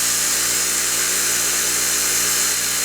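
A grinder cuts a miniature camshaft in shallow passes of about five thousandths, giving a loud, steady high whine with a constant motor hum beneath, unbroken throughout and without speech.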